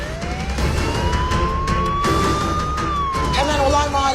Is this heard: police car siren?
yes